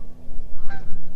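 Geese honk loudly and close by in a short burst of several calls near a Northeast Florida river, heard alone with no talking.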